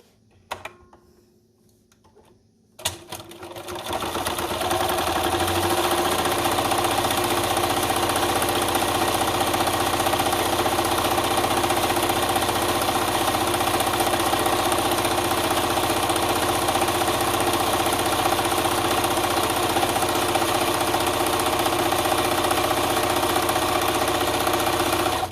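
A sewing machine stitches a vinyl bag strap, starting after a few quiet seconds with a click and then running in a continuous, steady mechanical whir up close, no talking.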